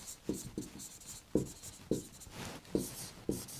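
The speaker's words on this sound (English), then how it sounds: "I'm going to write it here." Marker or chalk strokes on a board, a series of about seven distinct scratchy squeaks at an uneven pace, close and alone without talk.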